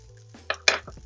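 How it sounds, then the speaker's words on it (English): A spoon stirs Hawaiian fried rice with Spam and pineapple in a pan, giving two short scraping clatters against the metal over a faint background hum. "Be able to stir your rice for a long period of time for it to fry correctly"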